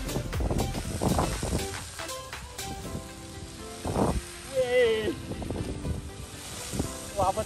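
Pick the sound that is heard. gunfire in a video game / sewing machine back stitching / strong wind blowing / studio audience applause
strong wind blowing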